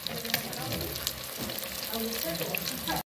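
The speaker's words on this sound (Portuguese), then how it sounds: "isso aqui já tá quase frito." Mandi fish frying in hot oil, a steady dense sizzle and crackle running unbroken throughout with scattered louder pops, close and loud, cutting out abruptly at the very end.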